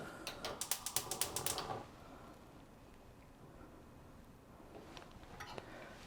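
A stove knob is turned down to low heat, giving a quick run of soft mechanical clicks. Later a few more faint clicks follow in a quiet kitchen.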